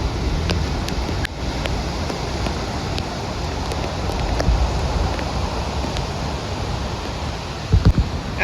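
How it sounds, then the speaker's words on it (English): Steady rain falls at Kamala Beach in Phuket, a dense, even hiss mixed with soft surf wash, with a few faint taps and a brief bump near the end. "It's raining."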